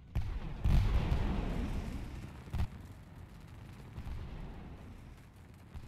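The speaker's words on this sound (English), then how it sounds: "Just a lot of explosions!" Booming explosions in the Totally Accurate Battle Simulator video game, two heavy blasts near the start and a sharp burst mid-way over a continuous rumbling battle din, no talk.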